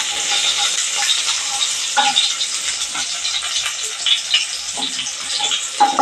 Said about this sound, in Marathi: फोडणी आपली छान तयार होऊन दे.